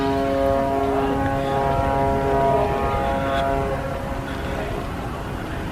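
Massive ship foghorns blare through thick fog, a loud sustained harmonic drone that holds for several seconds before gradually easing off against a low background rumble.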